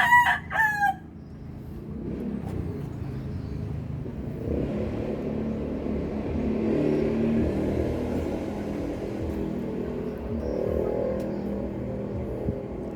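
A rooster crows loudly and close by at the opening, a clear multi-note call at a town fiesta in Cabatuan, Iloilo, then a steady low rumble of vehicle traffic carries on for the rest.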